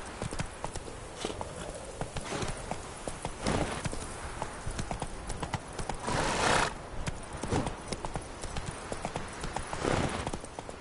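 A horse gallops with rapid, rhythmic clip-clop hoofbeats through The Witcher 3 video game, punctuated by a loud neigh midway, close and continuous over faint background game sound.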